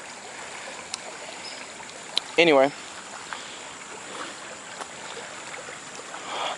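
A small, narrow river flows with a steady soft rushing and trickling that runs throughout, close by, with faint wind and a brief spoken word partway through.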